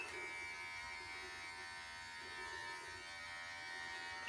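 Brio Beardscape electric beard trimmer running at low speed, giving a steady, faint, continuous motor buzz that holds evenly with no talking.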